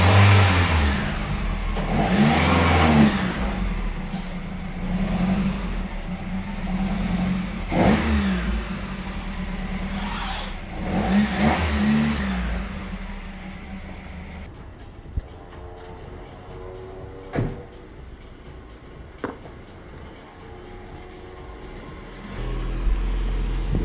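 VW Golf Mk1 with a 2.0L 8v engine swap driven outside, its engine rumbling and revving in several rises for about fifteen seconds before cutting off, followed by faint sharp knocks and clicks.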